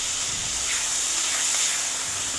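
Tomatoes hitting hot oil in a pan for a Marathi bhogichi bhaji, giving a steady, loud hiss that holds evenly throughout with no voices.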